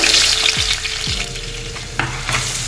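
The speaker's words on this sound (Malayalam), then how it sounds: "എണ്ണ ഒഴിച്ചു, അതും ചൂടായിട്ടുണ്ട്. ഞാനപ്പോൾ ഇതിലോട്ട് കറിവേപ്പില ഇടുകയാണ്." Curry leaves sizzle loudly in hot oil for a Kerala beef curry, a steady close crackle with brief stirring scrapes and no voices.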